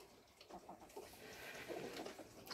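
A rooster on a small farm that also keeps pigs gives a few soft, scattered clucks in the middle distance, followed by a sharper burst near the end, with no talk over it.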